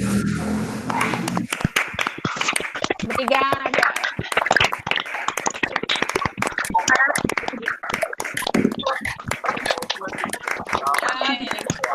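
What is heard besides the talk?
online participants clapping for the speakers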